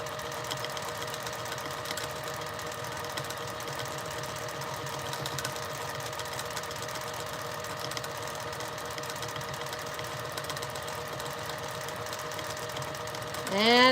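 Sewing machine running steadily through free motion quilting of looping feather designs, a continuous even hum held for the whole stretch, close and moderately loud, with a brief rising whine at the very end.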